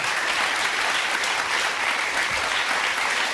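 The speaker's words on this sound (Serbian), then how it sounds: "Dajte veliki aplauz za njihovu hrabrost" A talk-show studio audience breaks into dense, loud, sustained applause: an even wash of many hands clapping at once, with no voices above it.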